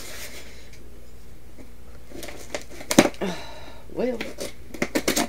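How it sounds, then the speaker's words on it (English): A cardboard box is ripped and sawed open with a dull knife during an unboxing: scattered scraping, tearing bursts and thuds, louder toward the end, with a brief spoken word in the clip. "This knife is so dull it doesn't want to cut the box."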